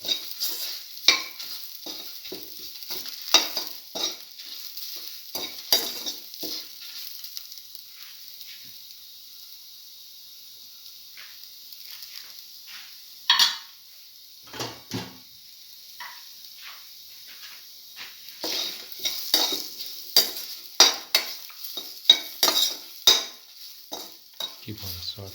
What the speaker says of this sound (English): keep on sauteing and mixing